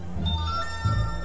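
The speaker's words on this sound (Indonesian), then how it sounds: "ya, ada SMS sedikit." A short tonal chime from a phone's SMS notification, a couple of bright pinging notes heard clearly over a low background hum.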